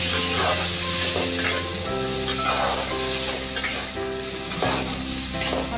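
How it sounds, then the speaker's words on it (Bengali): Chopped tomatoes fry for chutney in a pan over a medium gas flame, giving a steady loud sizzle with scraping stirs breaking through at intervals. "দিয়ে 2 মিনিটের জন্য আমি একটু ভেজে নেব।"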